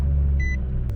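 A Nissan Altima with a 2.5 liter engine idles with a steady low rumble right after starting, and a brief dashboard chime sounds partway through.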